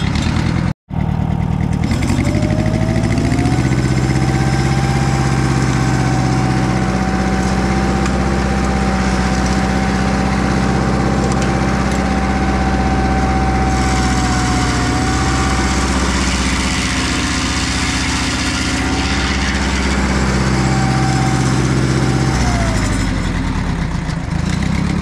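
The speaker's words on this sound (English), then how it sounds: "Go ahead and rev the mill up and make a cut and see what happens here." A Mobile Dimension sawmill engine revs up to a high, steady drone and holds under load as it cuts through a log, dropping back toward idle near the end; loud, close and continuous for over twenty seconds.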